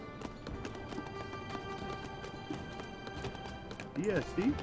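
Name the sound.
horses galloping in the video game 0 A.D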